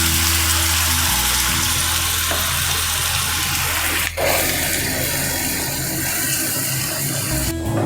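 Onion paste poured into hot oil in a pan while cooking a prawn malai curry, a loud steady sizzle and crackle of frying with a couple of brief clanks from stirring.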